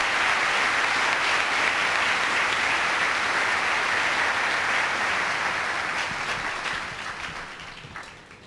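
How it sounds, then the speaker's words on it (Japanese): Sustained loud audience applause at the 1990 Japan Cup championship boxing match, a dense wash of clapping that holds steady and then gradually fades toward the end, with no talk. "皆様もう一度温かい拍手をお願いいたします"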